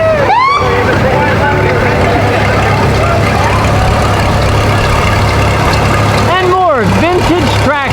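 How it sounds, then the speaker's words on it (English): A 1953 Massey Ferguson vintage tractor rumbles steadily at a town anniversary parade, a low loud engine drone with pitch swoops from passing sounds near the start and end, amid general outdoor crowd noise. "Vintage tractors. Part of the farming equipment. 1953 Massey Ferguson tractor."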